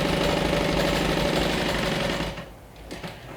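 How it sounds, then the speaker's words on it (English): A sewing machine stitches around the pocket of a bag, running close, loud and steady in a fast rhythmic whir for about two seconds before it slows and quiets. "Let's stitch all around."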